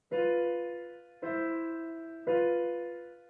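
Three sustained piano chords struck with both hands, each ringing and slowly decaying before the next, about a second apart, played alone.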